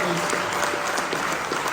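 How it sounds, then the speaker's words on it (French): Audience at an awards evening applauding, loud, dense clapping filling the whole short stretch. "on peut les applaudir"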